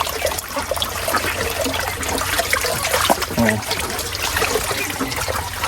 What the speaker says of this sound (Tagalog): Ito yung ating bukal ng tubig.